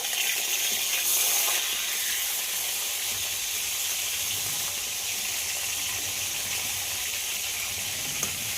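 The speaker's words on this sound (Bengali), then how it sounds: "এই সাইডটাও 2 মিনিট মতো ভেজে নেব" Bhangan fish fry in hot oil in a pan with a loud, steady sizzling hiss that carries on without a break. No one is speaking.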